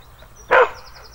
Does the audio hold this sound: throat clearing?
no